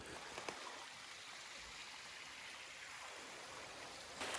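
A creek along the Western Uplands trail in Algonquin flows with a steady, soft broadband rush of water, constant and fairly faint, with no speech over it.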